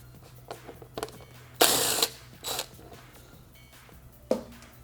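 Fasteners with 3mm Allen heads come out of a 2018+ Kawasaki Ninja side panel: scattered close clicks and taps of the hex key, with a few louder scraping rustles in between, no talking.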